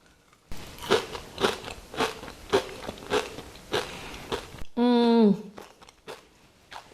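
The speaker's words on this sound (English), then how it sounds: "Can you hear how crunchy that is?" Crunchy bites and chewing of a pistachio chocolate cake filling, loud and close, repeating in a steady rhythm, followed by a brief hum of approval.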